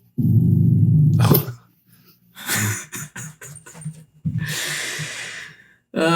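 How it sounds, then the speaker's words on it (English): A dog growls low and steadily, then gives a series of snorts and wheezy huffs, loud and close, with a breathy rasp toward the end; no speech. "Mooney, for those of you who don't know, is our buddy pal Ethan's dog"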